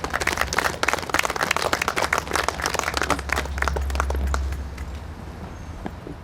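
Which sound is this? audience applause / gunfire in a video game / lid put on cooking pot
audience applause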